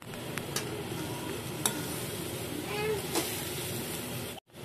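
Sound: stirring Maggi noodles with vegetables in a pan

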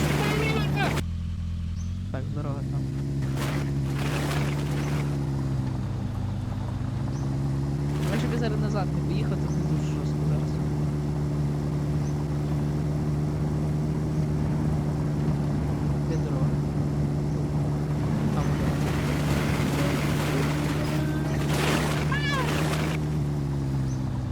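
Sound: car engine accelerating in video game The Long Drive

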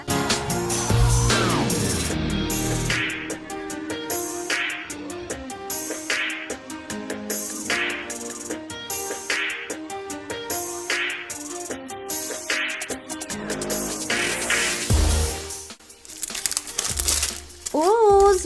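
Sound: opening the zipper and wrapping of a LOL Surprise ball

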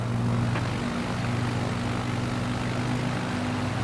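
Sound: airplane engine in a video game

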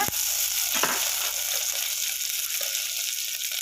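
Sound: dry red chillies frying in oil

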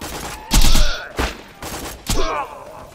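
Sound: gunfire from a gun in a video game

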